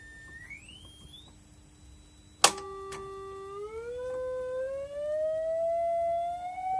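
A test tone played through a Marshall guitar amplifier with a presence control glides up in pitch after a sharp click, then settles into a steady, fairly loud pure whine near 800 hertz that hums on continuously.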